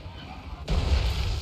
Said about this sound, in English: They're going to start firing the hell cannon shots at our doggos.